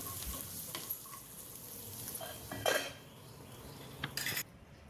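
Green chillies stir-fried with coarse rock salt in a pan: a soft, steady sizzle with occasional scrapes and clinks of a spoon against the metal, quiet and close.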